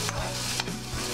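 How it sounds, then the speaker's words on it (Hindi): Cabbage and other vegetables being stirred in a pot for sweet corn tomato soup: a continuous frying hiss with a few spoon scrapes and low knocks against the pot, close and with no voices. "और एक बार इसको अच्छे तरीके से मिक्स कर देंगे और सब्जियों को हल्का सा कुक होने देंगे।"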